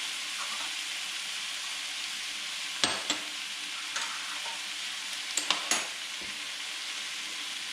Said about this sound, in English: You can see the bottom of the pan is getting caramelized, so keep the heat to medium.